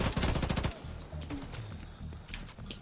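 Rapid automatic gunfire bursts open a fight in Division 2, then fall away into low rumbling booms and scattered impacts, loud and close with no talking.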